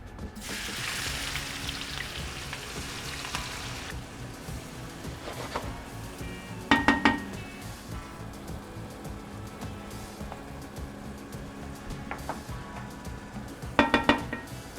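Sliced onions and peppers, salted, sizzle in a pan on a Traeger pellet grill. A steady close fry hiss runs throughout, loudest in the first few seconds, with a couple of sharp metallic clinks from a utensil against the pan.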